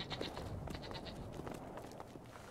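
Repeated goat bleats over a busy, noisy game soundscape in Brothers: A Tale of Two Sons, fairly loud and continuous throughout.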